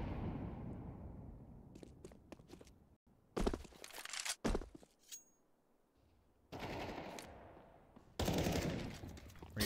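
Bursts of automatic gunfire from the video game Counter-Strike during a professional match, several separate rapid volleys with short gaps between them, crisp and fairly quiet.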